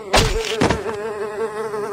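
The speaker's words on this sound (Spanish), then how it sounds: "había unos mosquitos radiactivos que te picaban" A small insect buzzes with a thin, steady whine after two brief thumps. The buzzing is loud and close and holds for the rest of the short moment.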